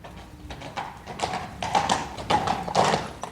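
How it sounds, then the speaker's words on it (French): Horse hooves clip-clop in a French Arthurian audio drama as a knight rides toward a castle drawbridge, a steady run of hoof strikes that grows louder and nearer across the clip. "Aussitôt Lancelot monte à cheval et se rend au pont-levis"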